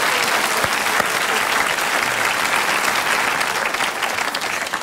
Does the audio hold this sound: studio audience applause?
yes